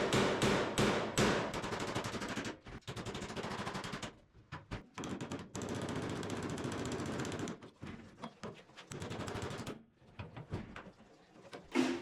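A hammer and crowbar prying apart an old kitchen in a historic Japanese ryokan make sharp, irregular bangs and cracks. Clustered impacts are separated by brief pauses and scraping.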